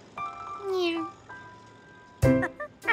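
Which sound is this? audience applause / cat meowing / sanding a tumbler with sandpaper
cat meowing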